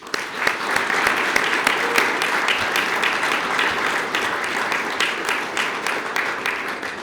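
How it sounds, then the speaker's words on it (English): A crowd applauds newly sworn-in police officers at a police department swearing-in ceremony in Sarasota, steady dense clapping filling the room for the full stretch at a constant loud level. "Let's give them another round of applause, please."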